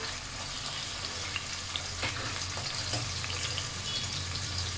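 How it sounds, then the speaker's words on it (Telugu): A cup of onions frying in hot oil for a chicken curry, a steady loud sizzle with occasional light clicks of stirring, close and continuous, no talking. "ఇప్పుడు ఇందులో మనం ఆనియన్స్ వేసుకుందాం. ఒక కప్పు ఆనియన్స్,"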